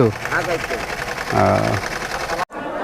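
At a rural market, a sewing machine stitching lungis runs with a steady mechanical whir under close conversational talk, then cuts off sharply near the end.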